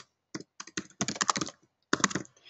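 Keys clack in quick irregular bursts on a Mac computer keyboard while a definition is typed into ATLAS.ti software, with short pauses between flurries, close and clear.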